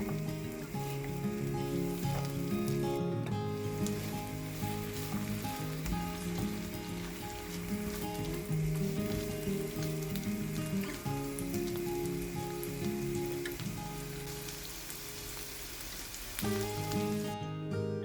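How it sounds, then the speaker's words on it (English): Red onion and shallot sauté in a hot pan, a steady dense sizzle and crackle that runs continuously and evenly throughout, close up with no voices. "Sauté the red onion and shallot."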